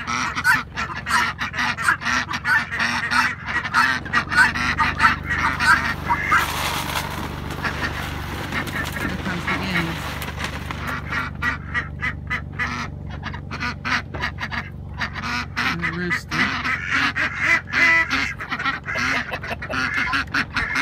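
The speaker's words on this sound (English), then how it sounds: "The ducks, the chickens, and the guineas all stay in the same coop." Ducks, chickens and guinea fowl together in a farm coop, a busy mix of loud honking quacks and squawks repeating in rapid bursts throughout, close by and continuous.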